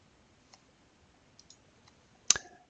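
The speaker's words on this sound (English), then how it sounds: "let's click on that comment and open it up" One crisp, close mouse click sounds near the end, preceded by a few faint ticks in otherwise quiet room tone.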